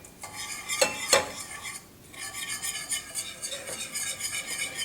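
Butter and sugar being stirred in a pot on a medium stovetop for fudge, with a couple of sharp utensil knocks early on and then a steady scraping stir over a faint sizzle.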